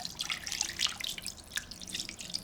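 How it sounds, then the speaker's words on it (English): Tap water pours and trickles into a cooking pot holding a piece of corned beef, a steady light splashing with dripping accents, fairly close and at a moderate level, with no talking. "Now, I need to top that up with some water."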